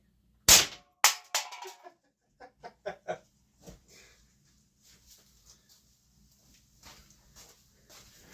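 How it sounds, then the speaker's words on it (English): A single sharp gunshot from a .38 revolver firing Speer target ammunition, loud and close, followed by a few fainter clicks and knocks as the shooting area settles, with no talk. "I'm going to go 2 hands just for the first shot"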